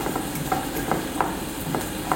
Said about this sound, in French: Alors nos oignons sont en train de cuire